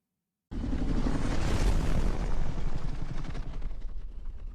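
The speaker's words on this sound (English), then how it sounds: "Taking a prop plane?" A propeller plane engine from an animated TV series starts abruptly and drones loudly and steadily for several seconds before cutting off, with no talking.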